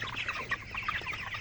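Chickens on a farm, a flock of healthy 31-day-old birds, clucking softly and continuously in a steady chorus of short, overlapping calls, with no talk.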